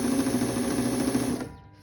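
A vintage Husqvarna Viking 33-10 straight-and-zigzag sewing machine runs and stitches with a loud, steady humming whir close by, then winds down and stops.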